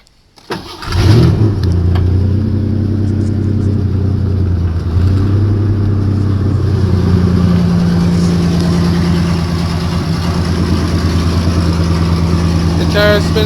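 A truck engine catches at about one second, then runs steady and loud with a deep, even throb while the differential is locked and a tire spins forward, holding the same level to the end.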